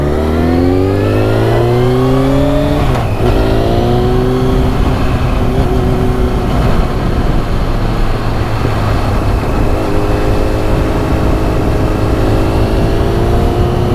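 A small scooter engine starts and revs up, its pitch rising then settling into a steady, loud idle close by.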